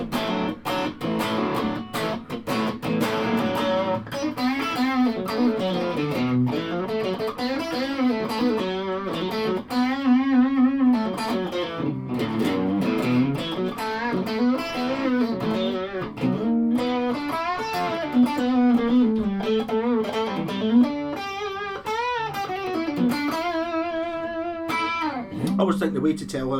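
A modified SX Vintage Series Strat plays through its humbucker bridge pickup with heavy distortion, giving a thick, sludgy riff of shifting chords and bent notes that continues steadily for nearly half a minute with no talking.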